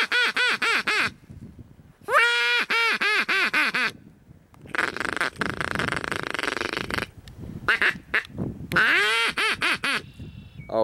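A duck quacks loudly and repeatedly at close range, in several bursts of harsh, nasal calls separated by short pauses and rustling noise.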